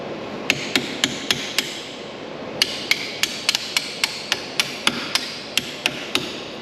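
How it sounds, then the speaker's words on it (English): A hammer strikes a punch to drive the pins out of a Brembo brake caliper on an SRT8. Five quick metallic blows come first, then after a short pause a longer run of about fifteen sharp, close, ringing hits. "we're going to drive these pins out"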